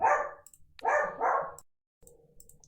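A dachshund barks indoors, three sharp, close barks in quick succession, then fainter rustling and small clicks after a short silence.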